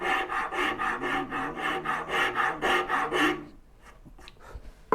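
A rasp shapes wood for a turning bow saw in quick, even back-and-forth strokes, a dozen or so loud close rasping passes before the work stops, leaving quiet handling noises.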